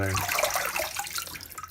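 Tap water runs steadily into a sink or bowl while freshly harvested allotment vegetables are washed, a close, continuous splashing rush.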